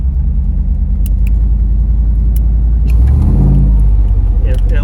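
An LT4-powered Wagoneer's engine rumbles steadily while driving, then rises in a revving surge near the end as the transmission is manually shifted and holds gear.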